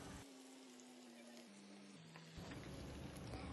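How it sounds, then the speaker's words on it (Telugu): Chicken pieces for pakodi deep frying in hot oil, a steady dense crackling sizzle that swells louder partway through, with a faint low tone underneath. "బాగా ఆయిల్ హీట్ ఎక్కినాక మనము ఈ పీసెస్ని ఆయిల్లో డీప్ ఫ్రై చేసుకోవాలి"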